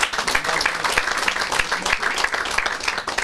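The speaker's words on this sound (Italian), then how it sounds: "Un applauso anche per il mister." Audience applause at a football club's season presentation event, honoring the coach; dense steady clapping fills the room with some voices mixed in, moderately loud throughout.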